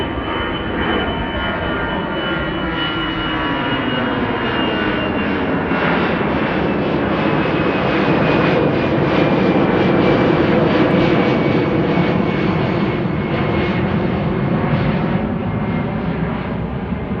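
A narrow-body jet airliner roars close by on departure from Amsterdam Schiphol Airport, a loud, steady broadband engine rumble with a faint rising whine that holds for the whole stretch, no voices.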